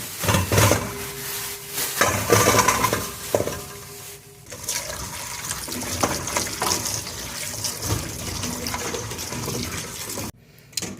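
Tap water runs steadily, splashing and gushing while a bunch of dirty radishes is washed and rinsed under it, with brief pauses and shifts in the flow and a sudden cut-off near the end.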